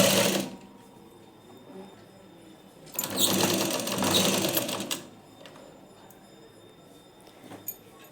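Sewing machine stitching piping onto a blouse neckline, a steady whirring run that swells into a louder burst of fast stitching for about two seconds, then drops back to a quieter hum.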